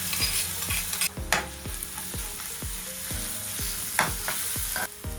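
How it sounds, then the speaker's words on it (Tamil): Crushed ginger and garlic sauté in hot oil for Sri Lankan-style patties, a close, bright sizzle under a steady rhythm of regular stirring strokes, with a couple of sharper clatters. "இப்போ இந்த சூடேறின எண்ணெய்க்குள்ளே நான் இந்த இடித்து வச்சிருக்கிற இந்த இஞ்சி உள்ளியை போட்டு வதங்க விட போகிறேன்"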